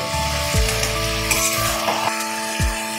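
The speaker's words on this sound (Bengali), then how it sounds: "এবার আমি মাছগুলো দিয়ে দিলাম, মাছগুলো দিয়ে একটুখানি কষিয়ে নেব।" Pieces of bhetki fish fry in a pan with a soft, steady sizzle over a constant humming drone, punctuated by a few dull knocks and stirs, close by, with no speech.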